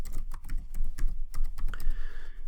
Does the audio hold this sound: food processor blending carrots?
no